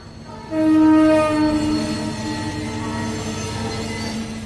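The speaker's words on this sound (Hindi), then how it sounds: "यही ट्रेन जाती है लखनऊ, हफ्ते में एक बार।" A passenger train bound for Lucknow sounds a loud, sustained horn blast, then rumbles steadily past close by with continuous wheel and carriage noise.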